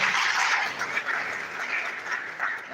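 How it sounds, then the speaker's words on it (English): An audience at a university campus event gives a round of applause for a director, a dense steady clapping that swells and fades slightly, fairly close and without speech. "Please another round of applause for the Director."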